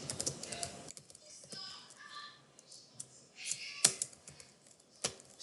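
Typing on a computer keyboard while coding in Python, with irregular soft key clicks and a couple of sharper taps at close range, over a quiet room with no talking.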